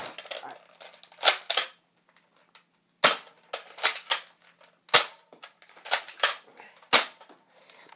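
Old Nerf blasters being test fired, giving sharp, close plastic pops and snaps, alone or in quick bursts of two or three, separated by brief quiet gaps and a few softer handling clicks.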